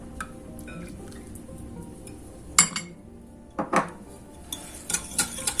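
Minced meat filling being mixed with oregano and oil in a bowl, with soft squishy stirring and a few sharp clinks of a utensil against the dish, close and quiet.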